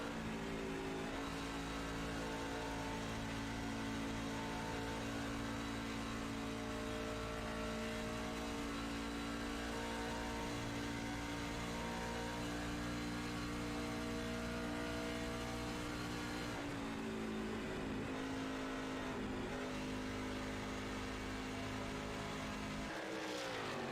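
A pulling truck's engine on board at Texas in iRacing roars loud and continuous at high revs, holding a steady tone with a brief dip and recovery near the end.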